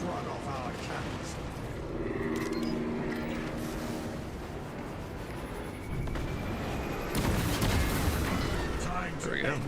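A Titan's cannons boom in a Warhammer 40k game, heavy artillery-like blasts and rumbling impacts spread across the stretch, growing loudest near the end, with game voices and a player talking over them.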